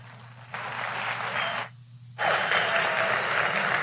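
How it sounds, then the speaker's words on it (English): An audience applauds at a United Nations summit after a head of state's speech. The steady clapping drops away briefly, then returns louder and fuller. "Please give him another round of applause."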